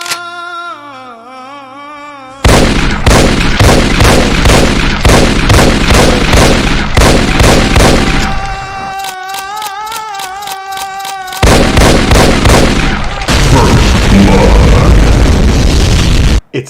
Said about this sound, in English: Its deadly, long-range suicide explosion when it touches its target is retained from the previous